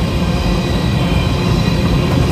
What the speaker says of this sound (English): Good sized train.